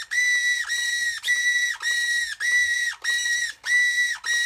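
Repeated high-pitched whine from a steering servo on a Tamiya Land Rover Defender CC-01 RC car build, lifted off the ground, pulsing in about eight even bursts that start and stop sharply, close and fairly loud with no talk.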